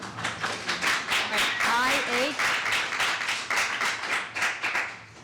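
Audience clapping during public comment at a Board of Aldermen meeting, sustained rhythmic applause from a room of people with a voice briefly audible over it.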